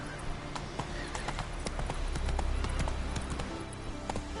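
Horse galloping in The Witcher III Wild Hunt: rapid rhythmic hoofbeats pound close and steady throughout, with faint voices in the background.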